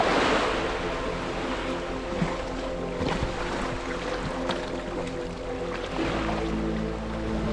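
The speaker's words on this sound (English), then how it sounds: "I get a great breeze and I can just hear the waves." Ocean waves at a beach on Koh Samui, a broad, continuous wash of surf with gentle swells and a light breeze, heard fairly close and without talk.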